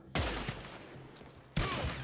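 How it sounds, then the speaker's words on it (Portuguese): Gunfire in the Western video game Red Dead Online: two loud, sharp volleys of shots, each trailing off in a long echoing rumble, with no voices over them. "Ok, deram um disparo aqui"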